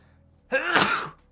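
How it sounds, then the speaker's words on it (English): A single sharp sneeze bursts out close by, lasting under a second, with quiet before and after. "Sneeze."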